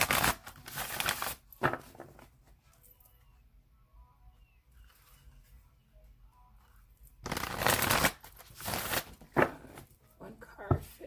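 Tarot cards shuffled in two loud bursts of riffling, close to the mic, separated by a long quiet stretch; a voice talks between them.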